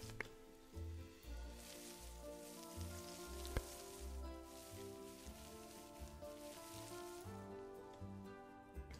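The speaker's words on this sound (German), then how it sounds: "Hier sehen wir, dass es regnet." Rain patters softly in the zoo-building video game Planet Zoo, a faint steady drizzle hiss beneath a sustained musical score with chordal tones.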